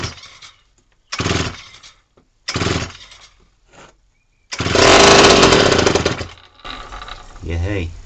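A vintage Homelite WIZ chainsaw engine, throttle locked, sputters and bursts in uneven pulses while being started, with a longer loud roaring run near the middle and a voice speaking briefly near the end.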